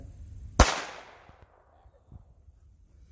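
Single loud crack from a .22 rifle firing old ammunition outdoors, a sharp report with a brief decaying echo followed by faint quiet background.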